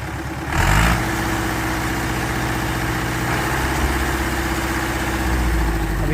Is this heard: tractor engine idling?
yes